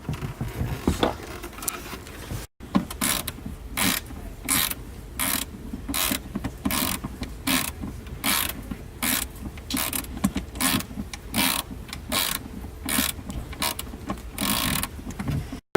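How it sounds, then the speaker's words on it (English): A ratchet wrench tightens screws on a Ford Sport Trac armrest, a close series of quick clicking ratchet strokes repeating in a steady rhythm for several seconds, with no speech. "after you're done tightening up the screws"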